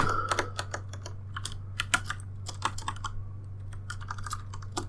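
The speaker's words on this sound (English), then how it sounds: "Hope you like the sounds of mechanical keyboards" Steady fast typing on a mechanical keyboard during a computer game session, with dense, crisp clacking keystrokes close by and no talking.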